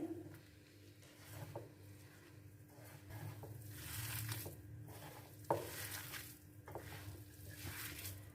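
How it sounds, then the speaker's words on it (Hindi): Gram flour (besan) being stirred by hand into leftover rice with coriander and a splash of water, making rice kebabs; soft, steady squishing and scraping with a few sharper knocks against the bowl, faint and close. "अच्छी तरह से चावलों में बेसन को मिक्स कर लेते हैं।"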